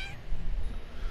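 Cat in the South Park: The Fractured But Whole game gives a single short meow, close and fairly loud, over a faint background hum.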